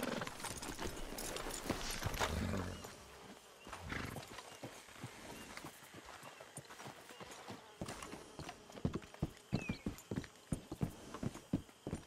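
Horses' hooves clip-clop at a walk in Red Dead Redemption 2, a steady uneven rhythm of close, crisp hoof falls with a brief whinny early on and game ambience underneath.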